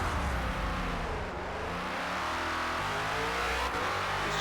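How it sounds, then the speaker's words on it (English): The Ford Falcon FG X race car in Forza Motorsport runs at high revs against the rev limiter, producing a steady, loud engine drone with stuttering harmonic wobbles and no gaps. "just don't have the car banging off the rev limiter like that"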